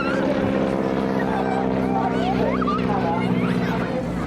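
A loud, steady propeller aircraft engine drone with strong harmonic hum at an outdoor air display, continuous throughout, with faint voices beneath.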